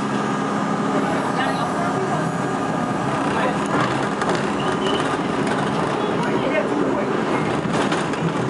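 New York City R42 subway train on the Z skip-stop route from Broad Street toward Broadway Junction, a constant loud rumbling ride with rattles and squeals, people talking underneath.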